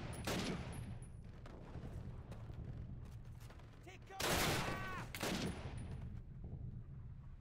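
Bursts of distant gunfire crackle through a Call of Duty (2003) battle at Brecourt Manor, with a louder volley midway, amid a steady low rumble and a faint voice.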